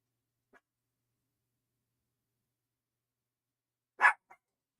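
A dog gives a single sharp bark, with a faint brief yip before it and a short trailing yelp after, set in otherwise near-silence.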